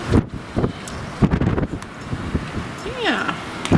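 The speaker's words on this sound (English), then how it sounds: "it's windy" Strong blizzard wind rushes and buffets the microphone in gusts during heavy snow, while people talk close by.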